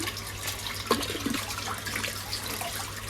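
A motor pump pushes a continuous stream of water into a drum, a steady splashing gush heard up close with no talking.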